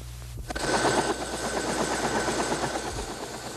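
A Vietnam War Cobra helicopter gunship fires flechettes in a loud, continuous roar of rapid fire over rotor noise, which starts abruptly and keeps going without a break.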